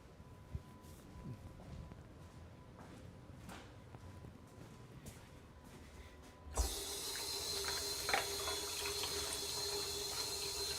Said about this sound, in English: You can probably hear the faucet running.